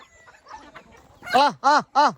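Three loud, harmonic rooster crows in quick succession follow a stretch of faint chatter and background noise, close by.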